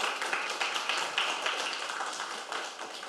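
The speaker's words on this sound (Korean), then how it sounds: "박수 한번 쳐주십시오." Audience applause at a forum talk concert on population and technology, a dense steady clatter of many hands clapping together that swells slightly and then eases off over a few seconds.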